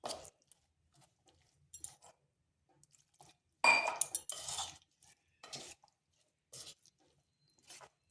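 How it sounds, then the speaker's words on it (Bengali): Semolina batter for crispy pakoras being mixed with small additions of water in a bowl, producing sparse wet clinks and scrapes of a spoon against the bowl separated by quiet gaps, with one louder burst of stirring midway. "এরপর অল্প অল্প জল দিয়ে একটা ব্যাটার তৈরি করব"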